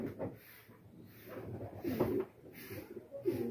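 Pigeons coo softly in and around a loft, low repeated calls rising and falling several times beneath faint outdoor background noise.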